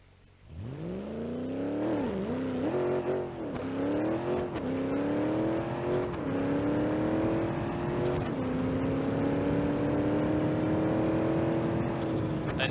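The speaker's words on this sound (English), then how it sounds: "Time for the burnout" A BeamNG.drive junkyard drag car does a burnout, its engine revving up and holding a steady, rising whine with a few dips as the throttle wavers, loud and close throughout.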